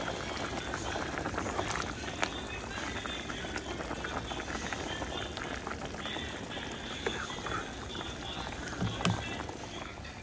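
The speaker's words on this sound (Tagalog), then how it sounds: "magpainit ako ng tubig para ilagay ko dito" Water heats toward a boil in a pot, giving a steady bubbling, simmering hiss with small pops and occasional faint clinks, close and fairly quiet throughout.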